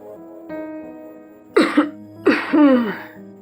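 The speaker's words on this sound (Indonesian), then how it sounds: "Suara orang batuk tiba-tiba terdengar." An old woman has two separate coughing fits, a raspy hacking burst followed by a longer, wheezy cough, close by over a faint steady hum.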